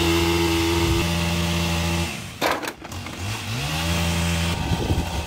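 A chainsaw cutting into a large eucalyptus tree, its engine droning loud and steady before dropping off and revving back up as the pitch shifts under load.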